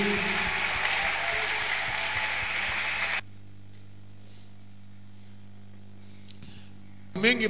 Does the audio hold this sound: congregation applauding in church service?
yes